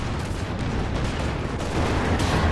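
Gunfire from a gun emplacement in Company of Heroes 2, heavy booming shots rolling into one another under a constant din of battle, loud and close throughout the short stretch.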